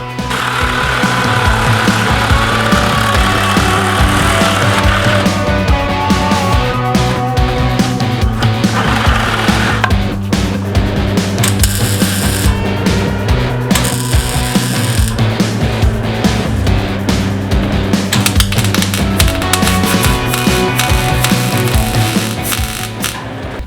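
A power tool cuts through a metal part for a DIY go-kart steering setup, a loud, continuous grinding roar that never lets up from start to finish.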